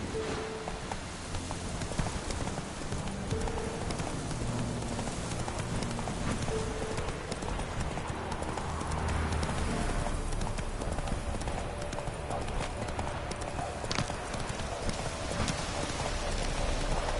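Trotting horse hooves from a video game clip-clop in a steady, continuous rhythm, loud and close throughout, over a noisy bed that sounds like falling rain, with no talking.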